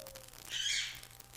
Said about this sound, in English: Did you hear my bird in the background?